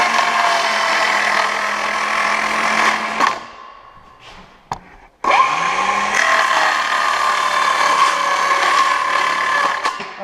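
A power saw cuts an MDF cabinet panel upside down with a loud steady whine. It winds down briefly with a couple of clicks, then spins up and carries on cutting, close and without any talking.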